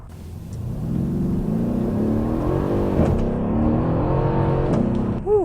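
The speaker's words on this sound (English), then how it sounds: "I go ahead and hit that gas, and you can feel that throttle blip right there." A 2013 Mercedes CLS 63 AMG V8 engine revs up steadily under acceleration on a test drive, loud and close, with a brief throttle blip near the end.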